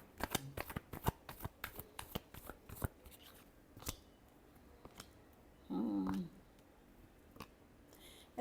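Tarot cards are shuffled close by in a rapid run of crisp riffles and slaps, then a few scattered taps, broken by a brief low hum partway through.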